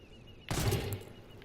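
A single loud gunshot burst in the video game Ghost Recon Wildlands, close and sharp, with a short decaying tail, set against a quiet background.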